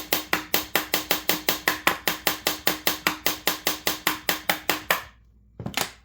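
A fitting being tapped into the side of the tank on a Husqvarna 257 chainsaw, about thirty quick, even light taps in a steady rhythm, then a pause and one last softer knock.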